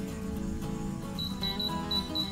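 A Hamilton Beach dual breakfast sandwich maker's timer going off, a thin repeating electronic beep starting partway in, fairly faint over a steady kitchen hum.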